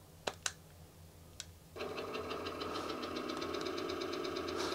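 After a few clicks, a car engine in a retro 3D driving game on the A500 mini Amiga console starts up as a steady, buzzy, pulsing drone that continues evenly at moderate volume.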